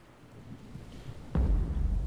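A hammerhead shark rams the underside of a small boat in Stranded Deep, a single heavy low thump landing abruptly and leaving a deep rumbling wash of water afterward, over faint background ambience.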